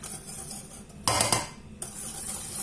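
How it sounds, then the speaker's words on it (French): A spoon briefly stirs a dry mixture of sugar, vanilla sugar and cornstarch, producing one short close scraping swirl under a second long in an otherwise quiet kitchen. "On mélange tout avant d'aller mettre tout ça sur un petit feu doux"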